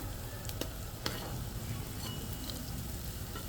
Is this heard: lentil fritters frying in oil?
yes